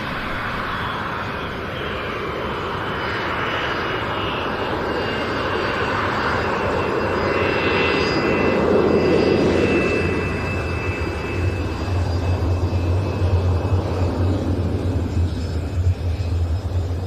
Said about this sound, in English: The Fiat G91 taking up the rear, and the future aircraft of the Frecce Tricolori, the T346A Master